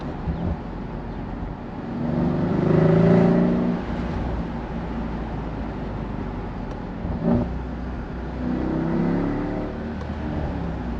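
A Mercedes SL63 AMG engine with a P30 performance pack hums and revs, swelling into a deeper growl twice before settling back, heard from inside or close to the car.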